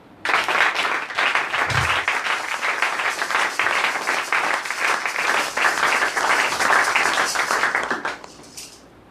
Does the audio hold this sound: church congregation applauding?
yes